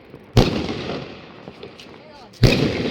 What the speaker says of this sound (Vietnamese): Đây nổ lăm thật đấy.